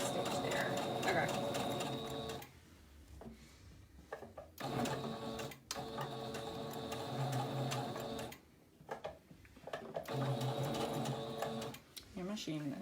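A sewing machine runs in steady stitching bursts, stopping and restarting several times, with quiet talk in the pauses.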